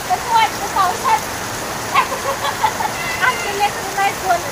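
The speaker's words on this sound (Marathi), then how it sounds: "कसलं पाऊस आहे, मजा वाटते आहे ना रे" Heavy monsoon rain hisses steadily outside a window, a constant broad wash of falling water, with faint chirping or calls and occasional voices rising over it.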